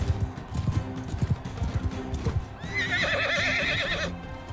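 A horse whinnies in the Mount & Blade II: Bannerlord video game during a tournament fight, following a run of clip-clopping hooves and thuds; the loud, wavering neigh carries on for over a second before it cuts off.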